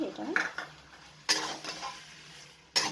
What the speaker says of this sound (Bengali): এটাকে ভালো করে আবার নাড়াচাড়া করে দিলাম।